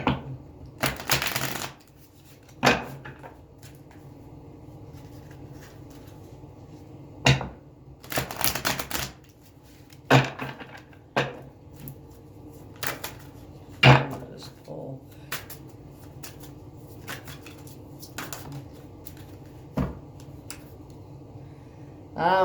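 Tarot cards are shuffled and handled in bursts of crisp riffling and soft slaps, irregular and close, with quiet gaps between the flurries and no talking.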